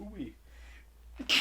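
A sudden sharp sneeze bursts out at the end of a short stretch of casual talk on a podcast, close to the microphone and louder than the voices before it.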